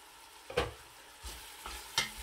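Onions soften in a pan for a dum pukht korma. Over a faint background, a utensil scrapes and stirs in three distinct strokes, each a short, bright scrape with a soft sizzle underneath.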